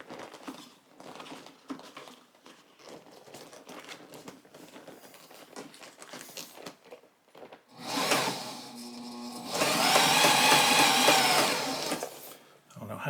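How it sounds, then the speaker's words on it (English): A sewing machine stitches rear seat-bottom upholstery for a 1977 Camaro Z28, with quiet handling and fabric rustle, then loud sustained bursts of stitching near the end. "Oh, I think I sewed through my thing there."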